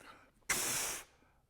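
Air is forced through tightly gripped lips against a trumpet mouthpiece, producing a single steady hiss like a voiced F that lasts about half a second and is close and fairly loud.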